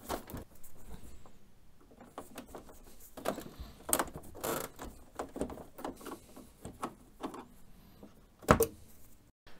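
A screwdriver works a retaining screw out of the waste ink pad holder inside an Epson SX/BX series inkjet printer, giving scattered close-up clicks, taps and light scrapes, with a sharper knock near the end and no talking.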